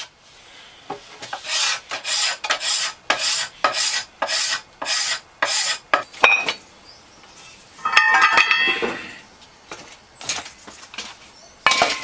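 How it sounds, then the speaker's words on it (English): A steel scraper shaves fine amounts of wood from the limb of an English longbow in a run of about ten short, rhythmic rasping strokes, close up and crisp, followed by a brief burst of scraping and a few clinks. "Using a scraper, you can remove very small amounts of material in order to soften the bow in specific"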